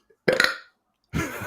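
A person burps while trying to form a word, two distinct belches separated by a short silence, close and loud with a voiced, gurgling quality.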